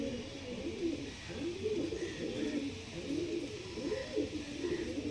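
Several pigeons of fancy breeds (Kalshira, Kalanka) coo softly in overlapping, repeating low burbles against a faint steady background hiss.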